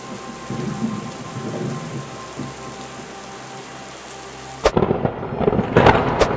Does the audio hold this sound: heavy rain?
yes